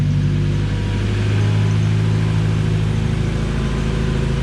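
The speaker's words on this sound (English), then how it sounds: "you can already start to hear it pick up a little bit. Starting to pick up and idle and be a lot smoother" A turbocharged Honda Civic engine idles as it warms up, a steady close rumble with a low throbbing pulse that holds even throughout.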